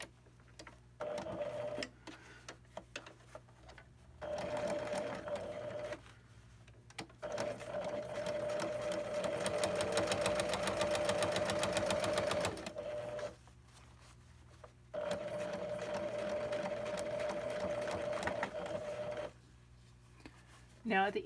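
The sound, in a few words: sewing machine top stitching cargo pocket edge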